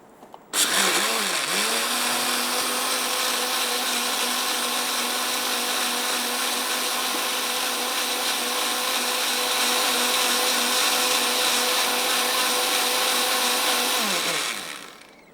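A blender grinds rice for malai kheer, a loud steady whirring roar that kicks in abruptly and runs unbroken for about fourteen seconds before cutting off, with no talking.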